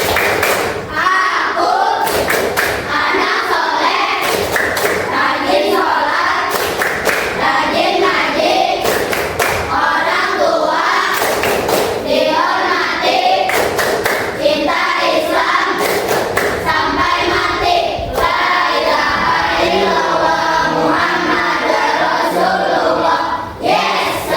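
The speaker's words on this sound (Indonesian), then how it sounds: "bertepuk anak soleh. Tepuk anak soleh." Schoolchildren in a classroom perform a rhythmic clapping chant, loud, close and steady for the whole stretch, with repeated sharp thumps and claps over massed young voices.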